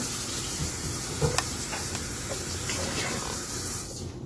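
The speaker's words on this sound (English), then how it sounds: "First I put the water on." Water runs from a tap into a sink in a home kitchen, a faint, steady hiss with small splashy flickers, heard alone and quietly.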